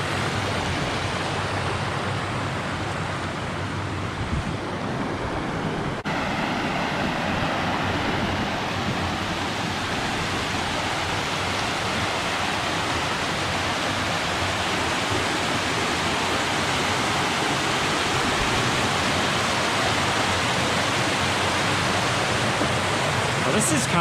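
Water runs through a small rock channel on a hiking trail at Worlds End along the Two Runs Nature Trail. It is a close, constant rushing hiss that stays even throughout.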